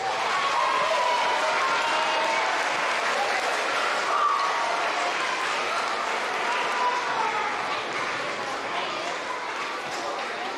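Sustained applause from an audience at an elementary school Veteran's Day program, steady even clapping from a full crowd throughout, fading slightly toward the end.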